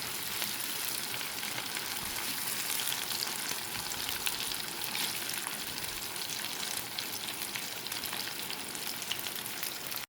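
Prawns sizzle steadily in melted butter and marinade oil in a hot pan, a dense, continuous frying crackle close by with no voices.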